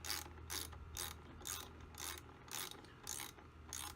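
A ratchet tightening a nut on an RV trailer battery terminal, a close, quiet series of about eight evenly spaced clicking strokes, alone.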